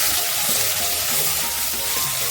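Brinjal pieces sautéing in oil in a pan, a dense, even sizzle close up with faint stirring underneath, continuous and steady throughout without speech.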